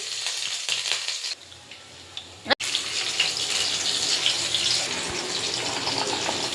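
Garlic dropped into a hot pan for Maggi noodles, starting with a soft hiss that bursts into a loud, steady sizzle of frying that carries on close by.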